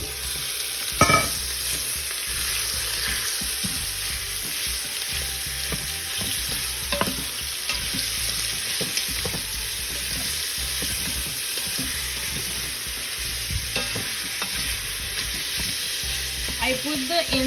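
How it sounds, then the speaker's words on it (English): Beef with carrots, seasoned with sazón, garlic and salt, sautéing in an Instant Pot on the high sauté setting for a Puerto Rican beef stew. Continuous close sizzle and crackle throughout, with occasional faint clicks. "I put the Instapot in the saute setting, the high saute."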